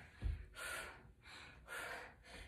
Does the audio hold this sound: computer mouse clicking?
no